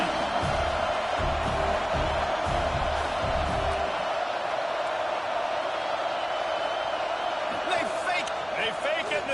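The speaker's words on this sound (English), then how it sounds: "This crowd trying to do its part to get inside the kicker's head." A college football stadium crowd roars as the field goal unit comes out on fourth down, a loud, sustained wall of cheering and yelling that stays dense throughout, with brief sharper shouts near the end.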